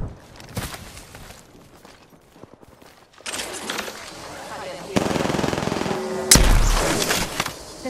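Rapid video-game gunfire in a battle royale match, with a sparse opening of scattered shots and mechanical clatter, then dense sustained automatic bursts and loud nearby volleys building toward the end.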